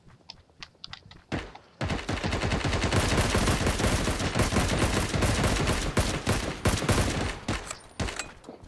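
Gunfire in the video game Ring of Elysium: a few scattered shots, then dense sustained bursts of rapid automatic fire that carry on for several seconds before thinning out again into separate sharp cracks.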